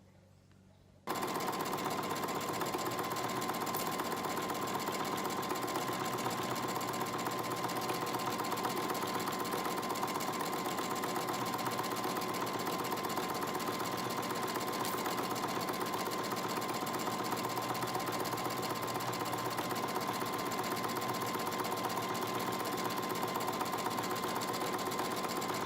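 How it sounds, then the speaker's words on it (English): A sewing machine stitches fabric for a scrunchie, running at a steady, unbroken mechanical whir after a brief quiet start and continuing for the whole stretch with no voices. "And then we'll start sewing."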